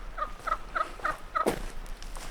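White and black domestic turkeys on an off-grid homestead gobble in a quick series of five short, bright calls at an even rhythm, followed by a single louder gobble, all fairly close with no talking.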